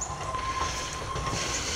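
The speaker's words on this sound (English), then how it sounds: "You see that truck running down the railroad, inspecting it." A rail inspection truck runs along a railroad track nearby, giving a steady, continuous rolling rumble with a thin metallic whine from the rails, holding at an even level throughout with no talking.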